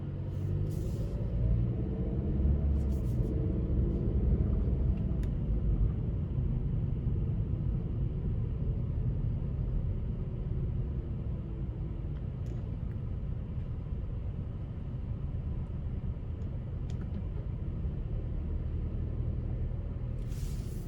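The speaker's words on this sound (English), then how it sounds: "next we're gonna take this Sonic out on the road for a quick test drive" A 2020 Chevrolet Sonic Premier with a 1.4L engine, front-wheel drive, driving on the road, a steady low rumble of engine and road noise from inside the cabin with a few faint clicks and no talk.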